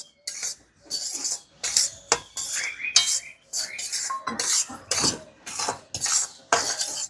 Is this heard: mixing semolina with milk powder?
yes